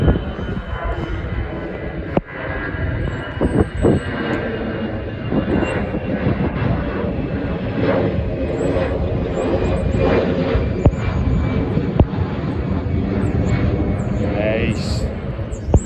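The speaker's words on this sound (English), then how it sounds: "Lovely wee aircraft there." A small airplane flies overhead with a steady, loud propeller engine drone outdoors on a hike, while people talk throughout.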